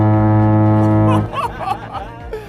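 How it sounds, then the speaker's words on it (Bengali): A huge air horn blasts a deep, loud, sustained tone for about a second, then cuts off, leaving a mix of background voices and laughter. "খুবই অসাধারণ এবং ভয়ানক একটি সাউন্ড বের হয় এই হর্নটি থেকে।"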